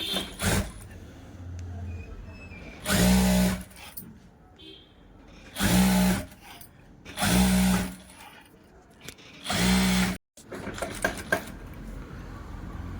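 Sewing machine stitching a two-inch cloth strip folded in half for a blouse neck, running in four short loud bursts of about a second each, separated by quieter handling noise.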